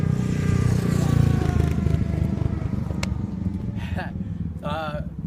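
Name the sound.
motorbikes passing by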